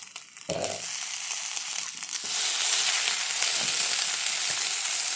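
Steady loud sizzling of eggplant frying in a pan, with a brief clatter early on before the hiss intensifies and holds, no voices.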